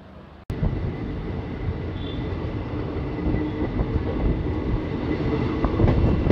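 Ahmadpur–Katwa passenger train rolling along the rails, a steady close rumble with faint rhythmic clatter of the wheels, starting after a sharp click and growing slightly louder toward the end.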